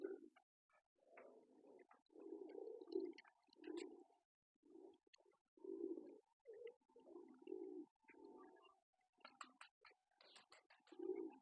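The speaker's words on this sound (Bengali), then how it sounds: "এই কবুতরটা আবার চলে আসলো" Soft, low coos of a caged male fancy pigeon repeat in short rounded bursts, close and fairly quiet, with a few faint higher chirps and rustles toward the end.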